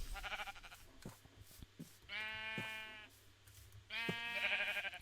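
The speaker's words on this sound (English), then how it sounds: "Oh, excuse me, Mr. Sheep." Two drawn-out sheep bleats in a video game, each with a wavering, harmonic tone, arriving a couple of seconds apart over faint ambient game noise and scattered soft thuds.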